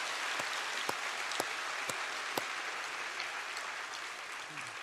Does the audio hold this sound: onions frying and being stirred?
no